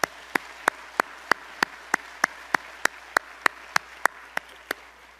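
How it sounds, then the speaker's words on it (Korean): A church congregation at a worship service clapping together in steady unison, about seventeen crisp, evenly spaced claps at a brisk beat over a quiet room, with no voices. "우리 한 번 더 격려합시다. 박수로."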